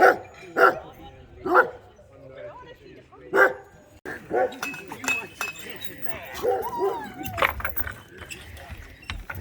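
Alaskan huskies at a kennel in Anchor Point, a string of loud nearby barks and yips at first, then a busier stretch of overlapping barking with metallic clinks and people talking.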